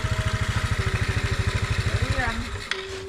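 A motorcycle engine runs close by with a fast, even pulsing putter at idle, steady for most of the time before tapering off at the end, with voices talking in the background.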